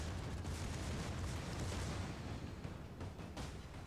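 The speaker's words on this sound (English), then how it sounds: "Get the main battery round. Fire everything." Warship main battery guns firing in the naval game Shipstream: a dense, continuous roar of heavy booms that blend into one another, loud and sustained with no talk over it.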